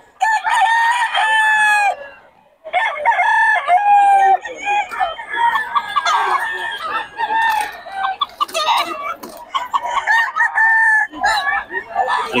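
Chickens including a black hen at a sale, with repeated loud rooster crows and clucking from several birds close by, steady and overlapping throughout.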